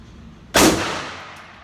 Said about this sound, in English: I'm gonna just shoot these last few rounds.